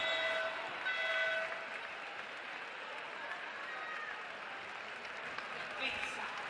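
Home crowd at a EuroLeague Women basketball game between Casademont Zaragoza and Valencia Basket, cheering and applauding in a steady, broad roar that fills the arena, with faint voices mixed in.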